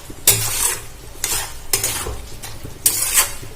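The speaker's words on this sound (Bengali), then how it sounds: "এবারে ভালো করে নাড়াচাড়া করে মাখিয়ে নেব।" Chhatu mustard curry being stirred and mixed in a pan after a little sugar goes in, with four bursts of scraping stirring over a soft sizzle, close and alone.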